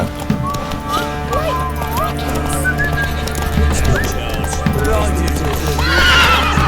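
A horse in The Witcher 3 neighs and whinnies with clip-clopping hooves, loud and close, over a steady game background of wind, and a brief spoken line mixes in.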